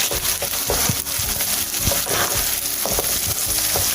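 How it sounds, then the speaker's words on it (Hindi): Onions fry toward golden brown for white korma, with a dense, loud sizzle and crackle in hot oil and rhythmic stirring scrapes throughout. "इनको मैं अच्छे से फ्राई कर लूँ"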